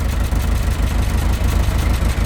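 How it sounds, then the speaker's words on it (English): Talbot Express van idling with a small exhaust leak, giving a steady, close, low rumbling drone with a faint puffing edge that holds evenly throughout, no voices. "So we've got a little bit of a blow on that exhaust"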